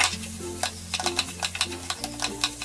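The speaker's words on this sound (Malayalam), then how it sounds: "ഇനി ഇതിലേക്ക് ഈ മിക്സ് ചെയ്ത് വെച്ചിരിക്കുന്ന ബീഫ് ഇട്ടിട്ട് നല്ലതുപോലെ ഇളക്കിയെടുക്കാം" Beef mixture stirred in a frying pan, a spoon scraping and clattering in irregular strokes over a steady low sizzle, close and fairly loud with no talking.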